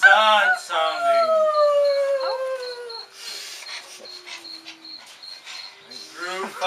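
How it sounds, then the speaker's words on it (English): A sad-sounding wolf howl glides slowly downward in a long mournful tone, followed by quieter, fainter calls and a steady insect-like chirring in the background. "howl was very sad sounding"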